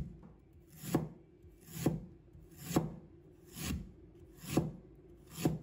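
A knife cuts slices from a piece of fresh ginger on a wooden cutting board, six crisp, evenly spaced chops about a second apart, close and fairly quiet with nothing else heard.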